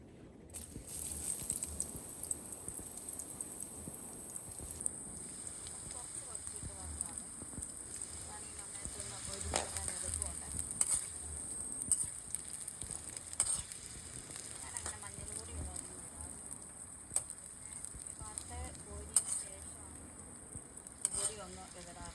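Jackfruit slices fry in hot oil, giving a continuous crackling sizzle with scattered pops and occasional stirring scrapes, close and steady throughout.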